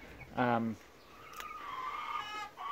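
Hens in a chicken coop give a short, loud cluck near the start, followed by softer, drawn-out murmuring calls and a faint background hum.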